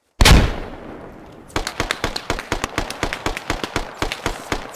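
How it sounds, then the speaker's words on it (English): Recoilless rifle fire in the military shooter game Squad: a sharp, loud blast opens, followed after a short lull by a long run of rapid, evenly spaced gunfire cracks at mid distance. "Recoilless rifle incoming."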